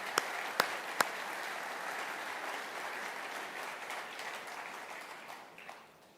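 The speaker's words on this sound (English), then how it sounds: "Let's give them all a round of applause." A room full of people applauding steadily, a few sharp claps standing out early, then the clapping tapers off.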